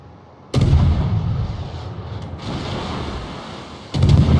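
A warship's main guns firing a volley in a naval battle game, two heavy booms a few seconds apart, each followed by a long rumbling roar, loud and close.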